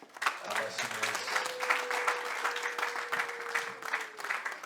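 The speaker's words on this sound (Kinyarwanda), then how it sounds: "amashyi menshi" Wedding guests clap together in sustained, dense applause that holds steady for several seconds, while a voice speaks over it.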